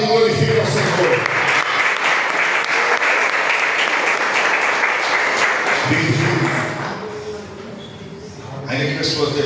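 A church congregation claps loudly and steadily for several seconds, the applause thinning briefly before swelling again, with voices mixed in.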